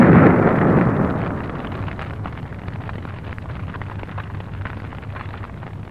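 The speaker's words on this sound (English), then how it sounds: "The projectile is detonated." Detonation of a projectile fired to puncture a vehicle fuel tank in an explosion suppression test, a loud deep blast at the start that decays into a long rumbling roar and fades.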